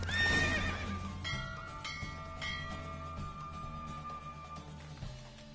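A horse in The Witcher 3 video game gives a loud whinny that fades, followed by clip-clop hoofbeats, with faint bell-like game tones ringing underneath.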